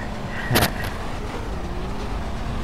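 A car driving in the video game Battlefield gives a steady engine drone throughout, with a brief sharp burst of noise near the start and no talking.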